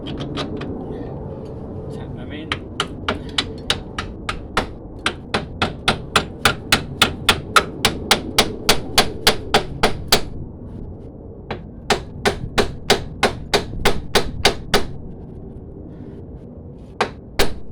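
A round punch is hammered into a strut mounting hole during front strut replacement on a 2009 Renault Megane. Sharp metallic hammer blows come in quick rhythmic bursts with short pauses between them, close and loud.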